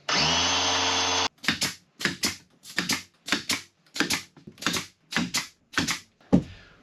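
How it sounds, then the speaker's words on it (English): A pneumatic nail gun fires into wooden interior wall panels during a tiny house build, preceded by a steady compressor-like drone, then about ten sharp, evenly spaced bangs, close and loud, with no talking. "start nailing."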